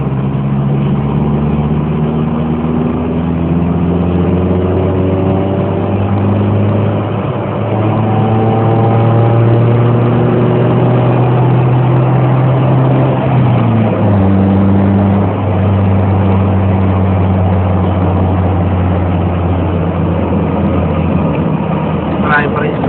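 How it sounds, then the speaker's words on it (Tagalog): A Toyota GLI car accelerates along a busy road, overtaking other traffic. Its engine tone climbs steadily in pitch and holds loud and close throughout, with a voice talking over it. "Toyota GLI. Ayan. Okay. Ito na po, arangkada."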